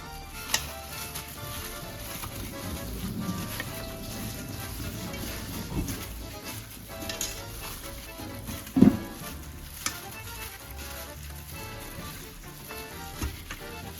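Garlic sizzling as it is added to oil in a pan while frying fish, a steady close crackle and hiss throughout with occasional louder pops and stirring clinks.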